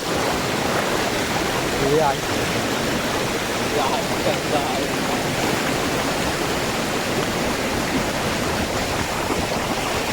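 A roaring waterfall in the Konkan region of India, swollen by monsoon rain, fills the whole stretch with a loud, constant rushing of water, close by and unbroken.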